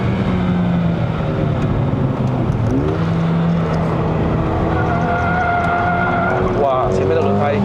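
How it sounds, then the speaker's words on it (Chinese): Mercedes-AMG GLA35 being driven hard up a winding mountain road to Genting, Malaysia, front tyres squealing through a corner with rising whine tones over loud steady engine and road roar, with people talking in the cabin. "哇，前面的轮胎开始叫了哎。"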